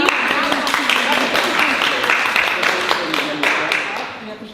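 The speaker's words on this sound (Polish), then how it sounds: "Brawa dla Julki." Steady audience clapping fills the room for a pupil being welcomed into first grade at a Polish school ceremony at the embassy in Rome, with voices speaking over the continuous applause.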